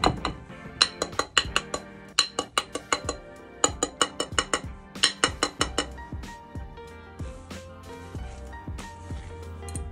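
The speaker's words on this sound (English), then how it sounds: "Just go around with the whisk, break down the sides, and give the middle just a little bit of a whisk" A whisk mixing buttermilk pancake batter in a bowl, rapid rhythmic clinking strokes against the bowl in bursts, close and bright.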